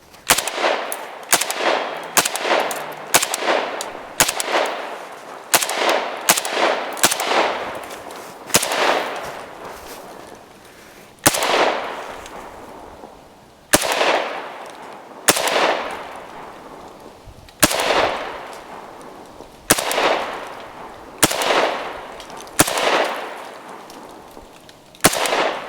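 Sharp, loud rifle shots from an AK-74 crack one at a time in uneven bursts, each with a ringing outdoor decay, fired during a torture test of a VTAC rifle light mount.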